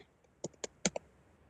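Four or five sharp keystrokes tap on a computer keyboard in a quick irregular burst, close and clear against a quiet room.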